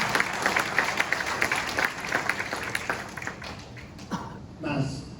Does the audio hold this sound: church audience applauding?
yes